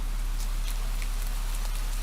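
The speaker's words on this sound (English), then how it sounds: "But in the middle of your walk, it starts to rain." Steady, soft rainfall hisses evenly throughout, with faint scattered drops pattering and no voices.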